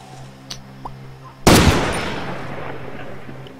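A .50 caliber gun in the video game Far Cry 2 fires one loud, sharp blast with a long rumbling decay, heard at a fortress fight, preceded by faint background game ambience.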